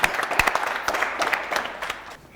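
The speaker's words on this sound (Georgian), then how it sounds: "აპლოდისმენტები." A school audience at a Georgian quiz contest bursts into brief applause, dense close clapping that fades away after about two seconds.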